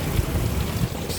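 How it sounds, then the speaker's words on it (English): Strong wind roaring and buffeting a microphone outdoors during a storm under a tornado warning, a steady low rumble filling the whole stretch with no break. "Stupid wind."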